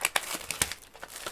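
Plastic wrapping on a trading card box being opened: close, sharp crinkling and crumpling in quick bursts, with no talk.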